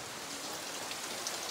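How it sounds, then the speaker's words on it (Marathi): Steady rain pours outside at night in the Konkan during Ganesh festival preparations, a dense, even hiss of drops with no gaps and no voices. "बाहेर पाऊस चालू आहे"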